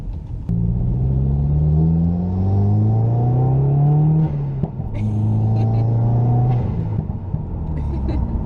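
A 2015 Subaru WRX engine with a newly installed intake revs up loudly nearby, its pitch climbing in two long sweeps, dropping briefly between them, with a deep throaty rumble.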